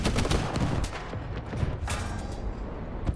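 Cannon fire and battle din around an M4A3 105 Sherman howitzer tank in War Thunder: dense, continuous rumbling explosions and blasts with no clear pauses, fairly loud throughout.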